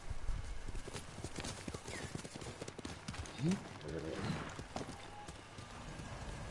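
Hooves clip-clop quickly in a steady gallop, with a brief horse whinny in the middle and a short spoken Spanish exclamation, in the video game Ghost of Tsushima.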